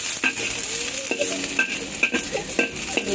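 Shrimp sizzles in a hot pan while a utensil scrapes and taps against it every half second or so, close and steady.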